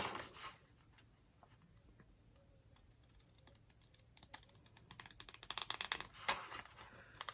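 Scissors cutting paper along a pencil line for a pocket pouch craft, with small snips and crisp rustling clicks, sparse at first and then quicker and louder toward the end.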